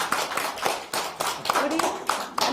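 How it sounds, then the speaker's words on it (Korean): Audience clapping at a women's organization policy meeting in Seoul, a burst of many hands with uneven sharp slaps over about two and a half seconds, close and fairly loud, with some voices mixed in. "박수로 다시 한 번만."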